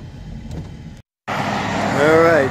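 A car drives slowly past large houses on residential roads, with a steady engine and road rumble from inside the vehicle that briefly cuts out, then returns slightly louder.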